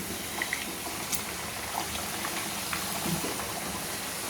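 Luchi frying in hot oil bubble with a steady, gentle crackle, small pops scattered over a constant fizzing bed.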